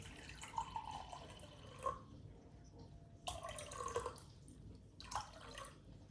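Warm water poured into a bowl for yeast bun dough, coming in three short splashing pours separated by quieter pauses, close and fairly soft, with no talking.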